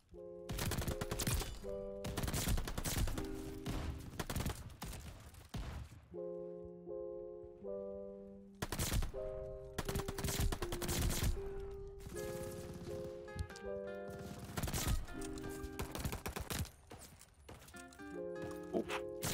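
MP40 submachine gun fire in a video game comes in rapid, dense bursts, close and loud. Pauses between volleys are filled with tonal game sounds.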